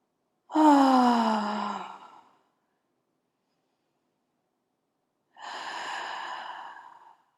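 Deep breaths during a yoga posture stretch: two long, audible exhales or sighs, the first louder and fuller, the second softer, separated by a few seconds of silence.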